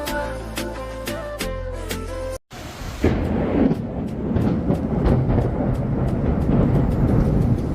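A loud, deep rumble of thunder during a rainstorm rolls in after a brief musical passage and a sudden cut, continuing as a sustained low roar.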